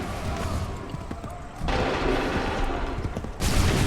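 Musket volley gunfire in the Assassin's Creed 3 video game, dense loud bursts of shots in two waves over battlefield noise, with shouted commands from soldiers.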